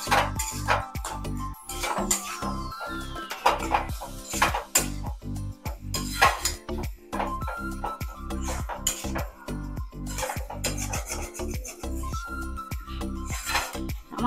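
A spatula stirs a prawn and pointed gourd stuffing in a metal pan, making a quick, irregular run of close scraping clinks and knocks with brief pauses.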